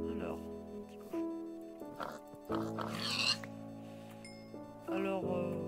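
A pig oinks in Minecraft version 1.5.1, with a few short grunts scattered through the clip alongside game tones and a voice speaking.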